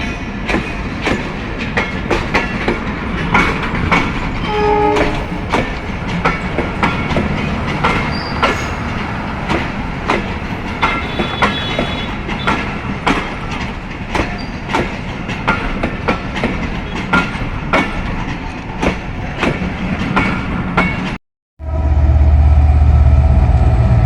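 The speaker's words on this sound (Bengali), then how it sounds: "বিশাল লম্বা ট্রেনটি চলে যাচ্ছে আপনারা দেখতে পাচ্ছেন" A long passenger train from Tangail rolls past close by near Joydebpur station, loud rhythmic clickety-clack of wheels over rail joints continuing steadily, then cuts off abruptly to a low rumble.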